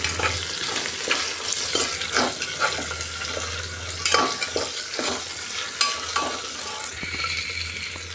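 Carrot, potato and beans frying in a pan for a millet breakfast dish, with a steady sizzle under repeated scraping strokes of a spoon stirring the vegetables, close and continuous, with no talking.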